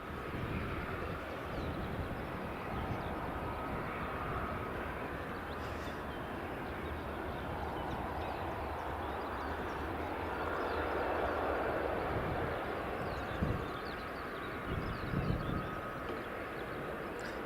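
A Jet2 airliner inbound from Bergen on approach to Edinburgh Airport: a steady, broad engine roar from a distance that holds throughout and swells slightly near the end, with no voices.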